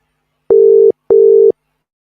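A telephone busy signal sounds on a radio call-in line during an attempted call-back: two loud, steady beeps of equal length separated by a short silence, with no voices.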